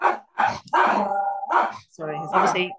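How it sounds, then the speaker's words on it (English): A dog barks several times in short, loud bursts close by, while a person speaks briefly between the barks. "that's my dog now."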